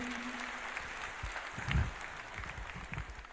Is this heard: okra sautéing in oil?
no